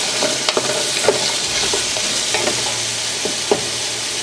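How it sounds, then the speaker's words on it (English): Beets with onions and garlic sizzle steadily in a hot pan while a utensil stirs them, making scattered scraping clicks over the continuous frying hiss. "So I am just going to stir the beets."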